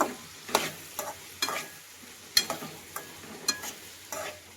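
Spoon stirring Agri masala and homemade garam masala in a pan, a quiet scrape-and-tap every second or so over a faint sizzle, close and alone.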